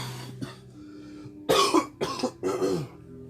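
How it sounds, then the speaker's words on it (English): Someone nearby clears their throat and coughs in three rough bursts, with no talking in between. "If I'm clearing my throat, sniffling, just me under the weather."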